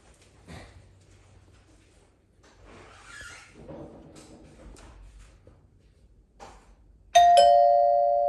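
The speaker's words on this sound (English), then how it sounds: "now I'm gonna go hit the front doorbell" A front-door two-tone doorbell chime rings once near the end, a bright tone ringing out and fading slowly after a quiet stretch of shuffling and faint movement.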